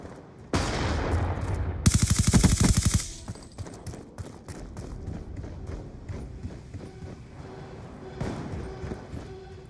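Shotgun blasts in an online shooter game, a dense burst of loud rapid gunfire bangs near the start, then quieter scattered in-game noise.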